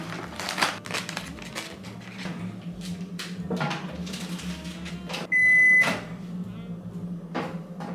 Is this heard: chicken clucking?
no